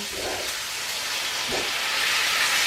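White wine hitting a hot cast iron pan with pork chops, giving a steady loud hiss that swells slightly and holds throughout, with no voices.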